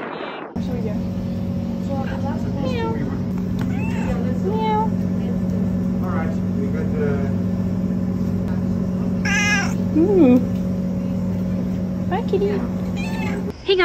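A cat meows repeatedly at the Roman Agora in Athens, Greece, its cries rising over a steady loud drone of insects, with a person speaking softly nearby.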